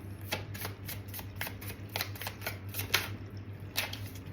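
Tarot cards are shuffled and drawn by hand, a close, steady run of crisp riffling snaps and slaps repeating about every half second over a faint steady hum.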